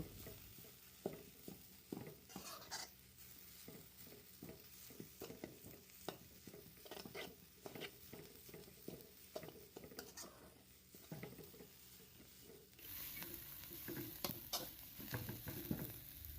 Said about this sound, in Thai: เอามาผัดให้หอม ใช้ไฟกลางผัดไปเรื่อยๆ นะคะ อย่าใช้ไฟแรง